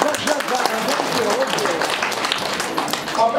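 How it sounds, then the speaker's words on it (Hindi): A crowd in an indoor hall applauds, the steady clapping fairly soft and continuous under someone speaking over it. "एक बार जोरदार तालियां हो जाए आप सभी लोगों के लिए"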